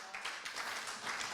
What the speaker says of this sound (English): If we could have a big round of applause for Esther.